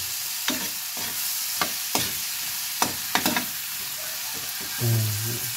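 Alamang shrimp paste with kamias sautéing in a pan gives a constant sizzle, with several sharp scraping strokes of a utensil stirring against the pan.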